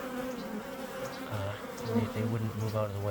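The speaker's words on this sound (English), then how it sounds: "I can brush the bees out of the way" Honey bees crowding a queen cage in a hive, a continuous close buzzing hum under someone speaking.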